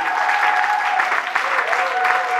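A church congregation claps steadily and warmly in praise. A voice carries over the continuous applause.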